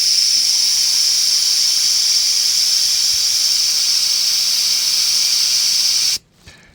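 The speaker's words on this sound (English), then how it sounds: "I'm just using the actual cap to bleed off that air." Air hisses steadily out of a car tire valve, the valve held open with its cap, loud and continuous for about six seconds before cutting off abruptly.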